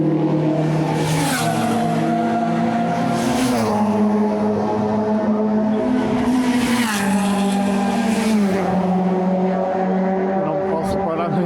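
Race cars roar around the Vila Real circuit. Loud engine notes rise and fall as cars pass one after another, forming a continuous, close wall of sound.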